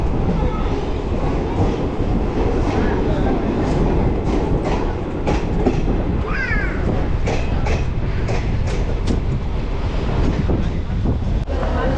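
Passenger train bound for Kolkata running steadily, a continuous loud rumble of wheels and carriage noise with rhythmic clickety-clack on the rails throughout, recorded from on board.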